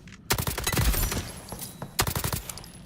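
A fully automatic gun from ALARA Prime fires in rapid bursts, with sharp, close cracks in a dense rattling string, a brief pause, then another quick volley.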